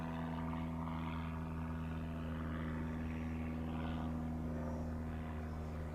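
A Freewing 64mm F-14 Tomcat model jet on landing approach, a steady whine with a low hum, continuous and moderately distant, with no talking.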